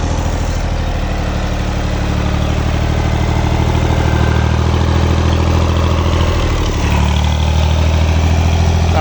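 A Someca tractor idles with a steady, loud, low exhaust rumble up close, its beat shifting slightly near the end.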